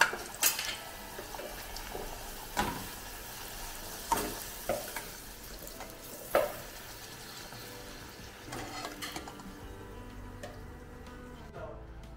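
Puri frying in hot oil at an outdoor festival stall in India, a steady hiss of sizzling with occasional louder splashes and stirring clatters, moderately close.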